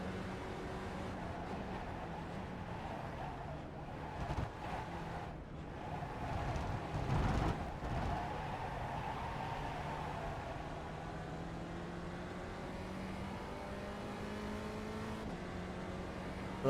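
A car driven through corners in third gear, its engine droning steadily with rising and falling pitch as it accelerates, heard faintly from inside without talk.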